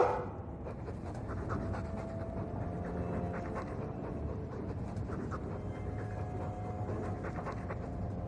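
A Mabari war hound in Dragon Age 2 pants steadily and close up for the whole stretch, a continuous rhythmic breathing over a low game ambience with no talking.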